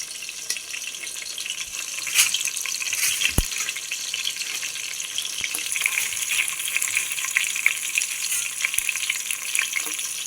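Curry leaves and spices tempering in hot oil with softened onions for sambar, a steady, continuous sizzle punctuated by occasional sharp clicks of stirring in the pan.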